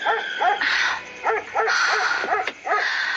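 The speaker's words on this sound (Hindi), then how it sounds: "भौंक भौंक के आसमान सर पे उठा रखा है इसने" A pet dog barks repeatedly at night at home, a series of about six sharp, fairly loud barks in quick bursts with no talk over them.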